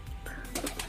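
Domestic pigeons coo softly at a loft, with a brief low rolling call heard close by.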